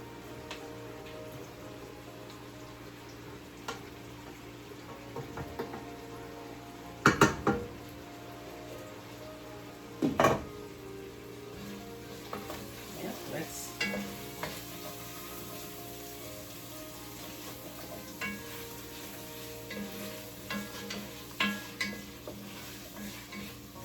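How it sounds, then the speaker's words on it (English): Cabbage and sausage cooking in a pot get stirred, a soft low simmer under a few sharp clanks of the spoon against the pot and some lighter scraping strokes. "Let's stir it so that all that powdered seasoning that I put in"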